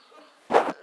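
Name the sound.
coughing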